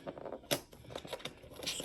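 Packing tape on a cardboard box being cut open, a short sharp slicing burst near the middle followed by quieter rustling and scraping of tape and cardboard, close and fairly faint.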